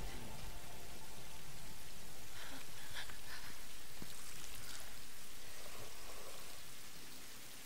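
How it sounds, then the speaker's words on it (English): Steady rain in the Tomb Raider video game, a dense continuous hiss of falling drops on surfaces that holds evenly and fades slightly at the end, with no talking. "Shelter, we're not getting rained on anymore."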